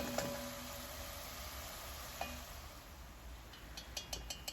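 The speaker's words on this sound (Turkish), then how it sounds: "Soğanımız pembeleşinceye kadar çok iyi kavurmamız gerekiyor." Onions sautéing in a pan until pink, a steady soft sizzle throughout with a few light stirring clinks of a utensil against the pan near the end.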